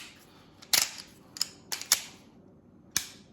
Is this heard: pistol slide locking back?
yes